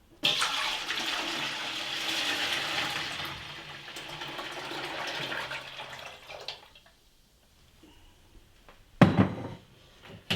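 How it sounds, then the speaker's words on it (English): A full gallon of milk glugs and splashes steadily into a pot holding citric acid and water, the pour loud and continuous before tapering off, followed by a brief sharp clatter near the end. "We're going to just put that right in the pot with the citric acid and water."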